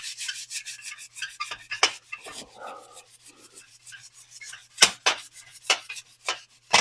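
Mangled trim from a classic antique car is sanded to remove file scratches, making close, rhythmic back-and-forth rasping strokes at a steady pace with a brief pause midway.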